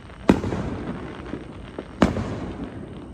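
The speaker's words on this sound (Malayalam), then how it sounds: "ഇവിടെ എല്ലായിടത്തും ഫയർ വർക്ക്സ് ആണ്, ഭയങ്കര ഫയർ വർക്ക്സ്" Fourth of July fireworks going off nearby, two sharp loud bangs about two seconds apart over a low rumbling background of distant pops.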